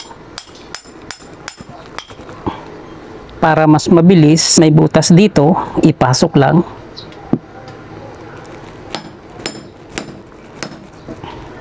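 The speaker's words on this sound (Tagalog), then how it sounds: "Paluin lang natin papasok ng martilyo" Sharp metallic hammer blows ring out repeatedly as a shaft is driven into a motor rotor, in quick bursts at first and again later, with someone talking over the middle stretch.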